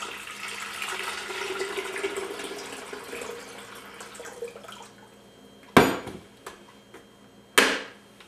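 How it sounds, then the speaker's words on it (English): Filtered water pours from a pitcher into a kettle with a soft trickling rush for several seconds, followed by two sharp clacks of a lid or handle being set down. "Next step, we want to add water to the kettle."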